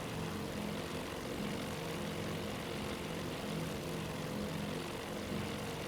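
A propeller aircraft engine in the Battle Simulator game drones steadily, a continuous loud buzzing hum with a throbbing low pulse, unchanging and uninterrupted by talk.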